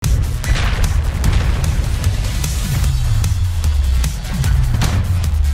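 Gunfire aimed at a giant squid during an underwater battle in the video game Dave the Diver: a rapid, steady string of loud shots over deep booming rumbles and continuous game sound, with no talk.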